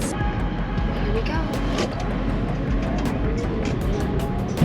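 A Toyota bZ4X Limited all-wheel-drive electric car under hard acceleration, with steady road and cabin rumble and a faint high whine, while people talk inside.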